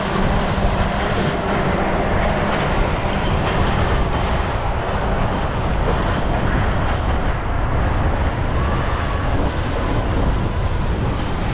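A Florida East Coast Railway freight train rumbles steadily past close by, a continuous loud roar of rolling wheels and rail noise with no voices.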